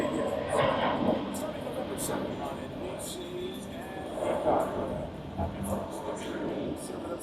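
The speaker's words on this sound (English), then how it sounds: "I got a plane coming up, flying over" Aircraft engine drone passing overhead outdoors, a steady broad roar rising slightly midway, heard under casual talk between men at an NFL game-day cigar gathering.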